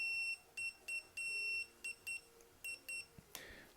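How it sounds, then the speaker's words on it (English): A replacement heater blower fan speed part for a Ford Escort Mk6 being tested gives a series of short electronic beeps in an uneven rhythm, faint and close, ending in a brief rustle. "you'll hear a beep now"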